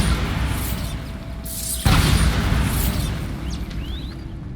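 A Bombarda blasting spell explodes in the video game Hogwarts Legacy: after a steady mechanical hum, one sudden loud, close boom hits midway, then a rumbling, crackling tail with faint shimmering whistles trailing off. No voices.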